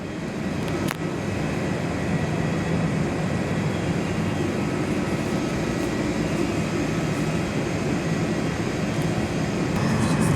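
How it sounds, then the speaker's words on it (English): A Virgin Australia Boeing 737-8 jet lands at Perth airport, heard from an indoor viewing platform as a continuous loud roar of jet engines and rushing noise holding steady throughout, with no talk. "Virgin Aussie Boeing 737-8's just landed."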